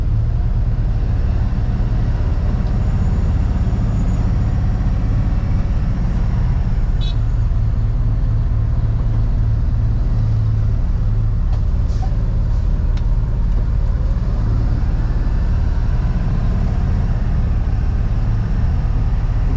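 A box truck rolls along a road with a steady loud engine drone and tyre rumble from the cab, constant throughout with faint brief clicks and no talking.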